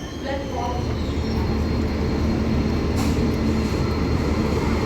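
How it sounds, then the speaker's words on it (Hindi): The North East Express rolls into platform 4 at a station with a steady low rumble of wheels and carriages, close and continuous, with faint station noise in the background. "नॉर्थ ईस्ट साइलेंटली एकदम प्लेटफॉर्म नंबर 4 पे एंटर करती हुई"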